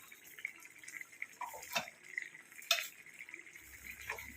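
Roasted ground coconut paste is poured into a simmering grape curry, giving soft wet drips and splats with a few light clinks of a utensil against the pot, quiet and close.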